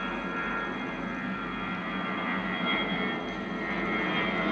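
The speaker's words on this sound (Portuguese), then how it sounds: "mas está passando um avião aqui. Isso é um avião." An airplane passing overhead outdoors, a steady broad engine roar that holds loud and even throughout with no voices.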